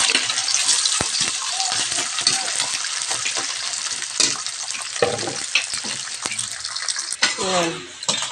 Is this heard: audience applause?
no